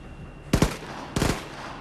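Gunfire in the video game Wolfenstein: The New Colossus, with two short, loud bursts of rapid shots about half a second apart, punchy and close, separated by quiet game ambience.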